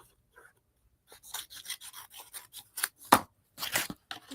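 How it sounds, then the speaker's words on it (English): Scissors snip through paper during Gelli print postcard crafting, a quiet series of short crisp cuts in an uneven rhythm, close up and alone with no talk. "Let's cut this off."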